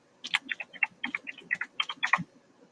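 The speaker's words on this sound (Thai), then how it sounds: "จากนั้นก็ใส่รหัสผ่าน" A password is tapped out on a computer keyboard in a quick run of about fifteen crisp, close keystrokes in an uneven rhythm, with no other sound.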